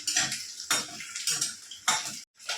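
A metal utensil scrapes and clinks against a pan while eggs in masala are stirred for an egg thali, in quiet, rhythmic strokes about every half second.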